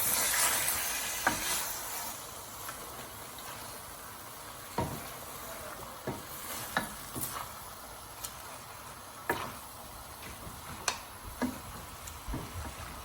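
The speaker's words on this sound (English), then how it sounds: "Now we're going to add all the meat into the pan. And give it a good mix." Lamb meat tossed into a pan and mixed for a lamb and channa dal dish, giving a soft continuous sizzle with scattered scraping ticks from stirring, quiet and close without talk.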